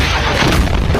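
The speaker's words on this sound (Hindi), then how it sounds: "इराक के उस एयरबेस के अंदर एक के बाद एक जोरदार धमाके" Heavy booming blasts at the Ain al-Asad airbase in Iraq during a drone attack, a dense, loud burst of rumbling explosions with no voices.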